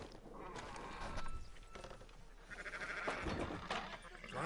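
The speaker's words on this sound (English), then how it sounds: "Fine sheep." Sheep in the video game Red Dead Redemption 2 bleat faintly over a noisy outdoor background, with a few overlapping calls spread across the moment.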